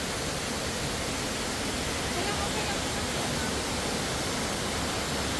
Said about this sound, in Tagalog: Hanggang baba yan guys yung falls na yan.